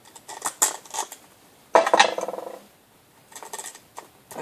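Small metal bolts are dropped into a machine one by one, making light, sharp metallic clinks close by. A dense cluster of clinks comes midway, followed by a few scattered taps.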